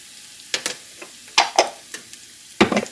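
Onions sizzle in a frying pan while a utensil stirs them in sharp, irregular scrapes, with about three clusters of strokes over a steady low hiss. The sound is close and moderately loud, with no voices.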